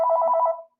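Telephone bell ringing once in a brief warbling electronic trill that lasts about half a second and then fades away, close and clear with no voices over it.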